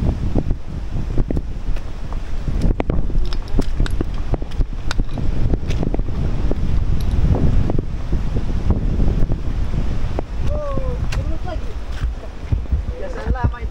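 Gusty wind buffeting the microphone on a mountain trail in the rain, loud, rumbling and uneven, with brief voices and a whistle-like tone near the end.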